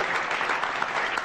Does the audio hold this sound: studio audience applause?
yes